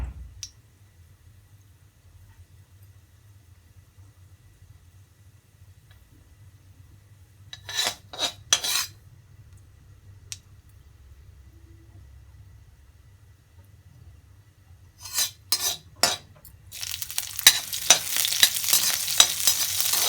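Green chillies dropped into hot oil with popped mustard seeds for a raita tempering: a long near-silence, then short bursts of stirring scrapes, then a loud, continuous crackling sizzle that builds at the end.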